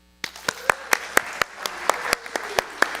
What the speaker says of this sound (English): Take your applause, yeah.